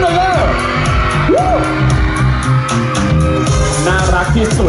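Fans scream and cheer for a boy band member at a candy launch event, a loud crowd of high-pitched shrieks and whoops mixed with an amplified voice.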